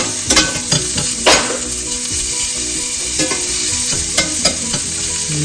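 Garlic and onion sautéing in a hot pan, a steady crackling sizzle broken by repeated clanks and scrapes of a spoon stirring against the metal.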